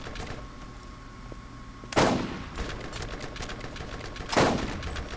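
Gunfire in the video game Borderlands: two loud, sharp shots a couple of seconds apart over a busy game background of rapid crackling, with no talking.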